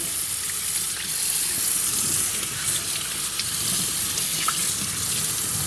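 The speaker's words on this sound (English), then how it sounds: "So I'm just gonna rinse it off under cold water" Steady running cold tap water splashes continuously over a brined whole chicken in a sink, a constant rushing hiss with no talking.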